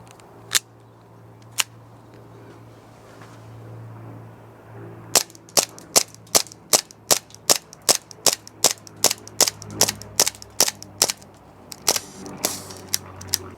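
A Walther PPK airsoft gas blowback pistol fires BBs: two isolated sharp shots, then a fast run of about twenty crisp, evenly spaced snapping reports, loud and close, with no talking.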